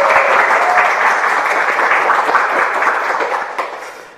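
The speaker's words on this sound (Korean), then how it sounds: "특히 여성분들 박수가 굉장히 크거든요" Loud audience applause in a Korean TV studio, led strongly by women, a dense, sustained wash of clapping that holds steady and then tapers slightly near the end.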